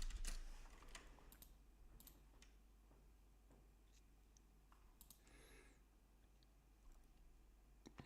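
Quiet, scattered keystrokes and clicks on a computer keyboard while coding, faint and irregular over a low steady hum, with no talking.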